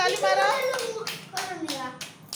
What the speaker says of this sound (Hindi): वेरी गुड ताली मारो